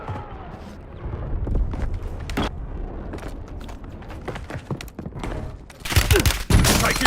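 Call of Duty gunfire in a multiplayer match, scattered sharp shots and bursts with heavy booming impacts near the end, loud and close over a rumbling game backdrop.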